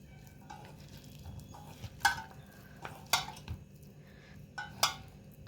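Peanuts being stirred into flour batter for crispy palli pakodi, with soft scraping and a few sharp clinks of a spoon against the bowl, close and fairly quiet, no talking.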